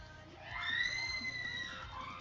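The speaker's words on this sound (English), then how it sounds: "Ignore any screaming you hear in the background." Young girls screaming and shrieking faintly in the background of a room, rising and falling in a few high, drawn-out bursts.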